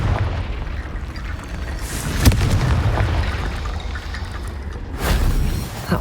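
The Confringo blasting spell goes off in the Hogwarts Legacy video game: a sharp crack partway through over a rumbling battle backdrop, then a second fiery burst near the end.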